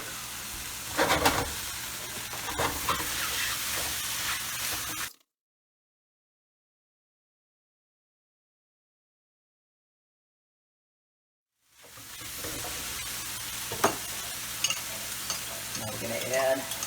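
Shrimp chow fun noodles stir-fried in a hot pan give off a steady sizzle with scraping stirs, broken by a long silent gap in the middle before the frying resumes.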